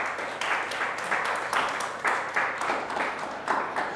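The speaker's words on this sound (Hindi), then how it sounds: "आइए हम जोरदार ताली से खुदावंद यीशु मसीह को धन्यवाद देने।" A church congregation claps in rhythmic unison after being urged to applaud loudly, steady repeated bursts of hand claps about twice per second, moderately loud and continuous for the few seconds.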